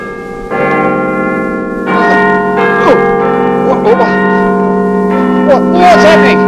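A doorbell chime rings out in sustained, bell-like tones that overlap and hang in the air, loud and close, while brief voices break in over the ringing.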